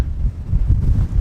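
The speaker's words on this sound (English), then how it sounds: "It's incredibly windy down here at the moment, but we are right on the side of the sea." Strong gusting wind beside the sea near an old tin mine buffets the microphone in heavy, close rumbling blasts with no talking.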